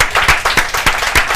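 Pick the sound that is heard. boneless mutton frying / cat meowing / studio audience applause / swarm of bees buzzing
studio audience applause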